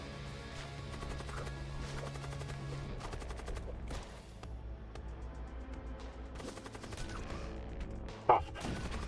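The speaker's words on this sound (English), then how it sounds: "The charged weapons begin to fire at you." Weapons in the space combat game Void War open fire on the player's ship, bursts of rapid gunfire and crashing hits over a low droning background, with one sharp loud impact near the end.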